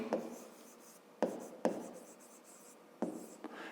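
Pen writing out a math expression for a fifth-grade exercise, close scratchy strokes with several sharp taps as the pen meets the paper, no speech.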